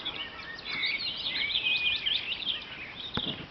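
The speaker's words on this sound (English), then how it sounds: "I've just heard a willow warbler." Willow warbler singing near an abandoned steam train repair workshop and slag heap, a faint, thin descending warble of sweet high notes repeated over soft background hiss, no talking.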